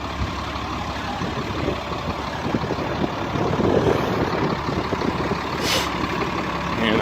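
A GMC C-7500 single-axle grain truck with air brakes and a hydraulic hoist idles with a steady, low diesel rumble, close and constant, with a brief hiss partway through.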